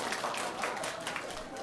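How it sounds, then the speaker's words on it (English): Students applaud in a room at a school forum, a steady dense patter of many hands clapping throughout, with some crowd noise mixed in. "clap if he's your favorite student or your teacher"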